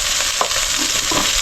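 Squash and other vegetables sautéing in oil in a pot: a steady, loud sizzle with a few soft stirring scrapes, close up and with no voices.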